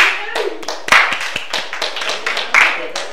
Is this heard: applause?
yes